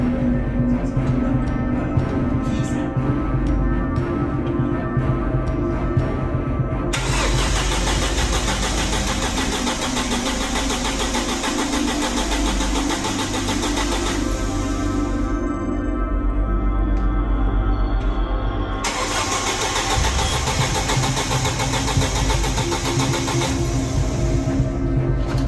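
An Audi car engine cranks and catches, then settles into a steady, loud idle that runs close by without a break, its tone brightening and dulling in stretches.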